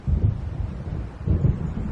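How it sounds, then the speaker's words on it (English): Thunder from a storm in the Alan Wake video game rolls in two deep, heavy rumbling swells, loud and close, with a windy, rain-like wash underneath. "It seems there's a storm coming."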